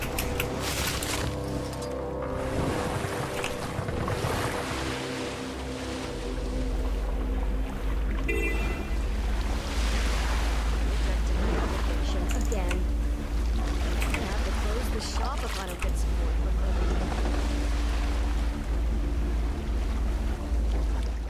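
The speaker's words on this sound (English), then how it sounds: "I'm gonna take my boat" A boat cuts across water in the Guild Wars 2: End of Dragons game, with a steady loud low rumble, wash and splashing waves, joined by game music and a voice talking over it.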